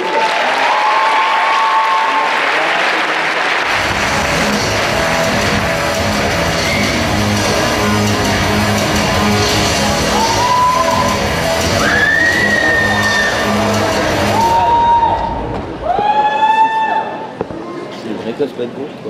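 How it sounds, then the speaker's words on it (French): A big crowd at a Polymanga 2014 Sunday cosplay contest breaks into loud, sustained applause and cheering for the cosplayers, with whistles and shouts rising near the end as the clapping fades. "On les applaudit bien fort, s'il vous plaît."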